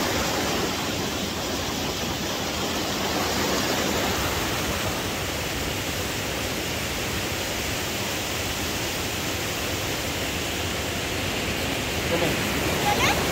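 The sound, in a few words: cold mountain stream flowing among stones, Shogran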